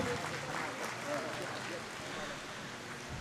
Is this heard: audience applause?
yes